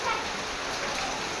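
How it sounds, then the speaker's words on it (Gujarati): Steady rain falls outdoors in the coastal village of Uncha Kotda, a dense, even hiss of drops with no break across the short stretch. "વરસાદ તો આવે છે."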